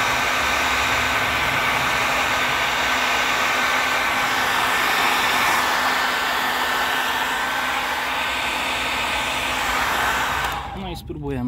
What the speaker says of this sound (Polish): Zresztą to nie jest opalarka, tylko suszarka